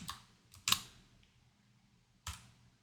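A few isolated keystrokes on a computer keyboard while entering a spreadsheet formula in Excel, sharp faint clicks in a quiet room spaced irregularly across a few seconds.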